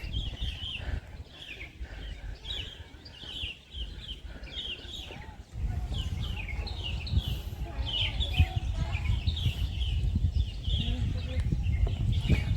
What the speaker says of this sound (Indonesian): Terdengar cicit-cicit burung tuh, dengeran nggak?